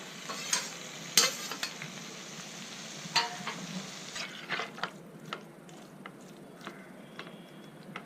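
Prawns marinated with salt, turmeric and chili powder sizzle and fry in a pan, a soft continuous hiss punctuated by scattered sharp pops and clicks, some from stirring, fading a little toward the end.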